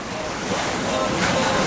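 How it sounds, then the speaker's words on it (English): Waves and wind rush steadily around a yacht sailing in a 14-knot breeze on moderate seas, a continuous broadband wash with wind buffeting the microphone. "The waves are not that high. We have 14 knots of wind"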